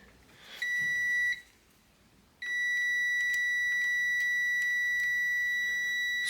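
A multimeter's continuity tester beeps while probing the door switch of a Panasonic microwave: a brief steady tone, a gap, then a longer loud continuous beep with faint clicks, alone without voices.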